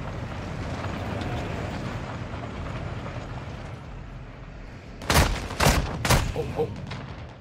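Gunfire in Call of Duty Modern Warfare 2, a few loud sharp shots cracking out near the end over a low rumbling background.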